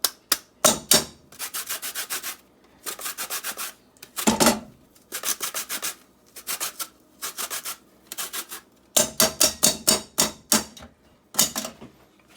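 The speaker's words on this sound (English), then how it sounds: "And you're going to grate the skin in there." An orange's skin rubbed across a kitchen grater while cooking, producing quick rhythmic bursts of rasping scrapes that come in fast repeated strokes with brief pauses, close and fairly loud, with no talking.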